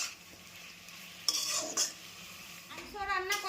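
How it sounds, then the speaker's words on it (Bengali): Tomatoes stirred in a pan with salt and turmeric, giving a soft scraping stir over faint sizzling, with a few sharper utensil scrapes against the pan; no talk. "টমেটো কিছুক্ষণ ধরে নেড়ে নেব।"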